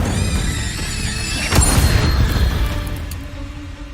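Incendio fire spell cast in the Hogwarts Legacy video game, a sudden whooshing burst with a boom-like crackle about midway through, rising over constant game background noise and then fading away.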